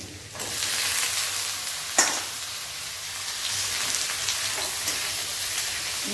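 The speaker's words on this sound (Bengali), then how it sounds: "ঝিঙেটা দিয়ে দিচ্ছি আমি" Ridge gourd dropped into a hot pan of oil, hissing and sizzling steadily in a dense, bright crackle with a brief stir clatter near the start.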